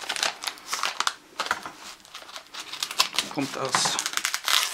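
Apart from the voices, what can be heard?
envelope being handled and opened during unboxing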